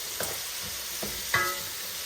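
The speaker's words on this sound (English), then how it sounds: "Allow it to fry." Collard greens and cabbage fry in hot canola oil with a soft, continuous sizzle, broken by a few stirring scrapes and clinks of a utensil close by.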